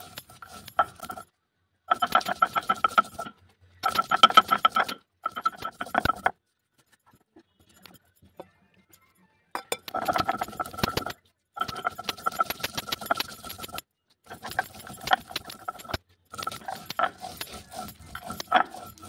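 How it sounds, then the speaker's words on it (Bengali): A shil-nora grinding stone works spices for Bengali shukto, making bursts of rhythmic scraping and clinking strokes close by, with short pauses between sets and a longer gap in the middle, and no talk. "মা সবসময় শিলনোড়াতেই মশলাটা করতে বেশি ভালোবাসে, তাই শিলনোড়াতেই কিন্তু মশলাটা বাটা হচ্ছে"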